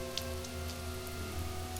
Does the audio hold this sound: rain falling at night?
yes